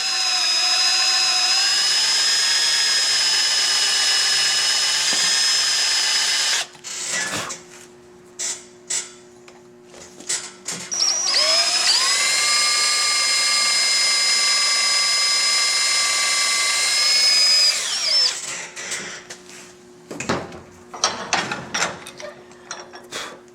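A power drill whirs in long sustained runs while boring out a hardbag latch on a Victory Cross Country motorcycle, its pitch shifting under load, broken by clicks and handling noise between runs.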